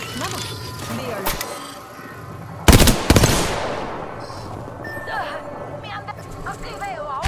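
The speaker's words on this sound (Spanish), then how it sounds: "Me están disparando." Video game gunfire crackles through a shooter match, with one loud burst of shots standing out midway, under steady in-game radio voice lines and effects.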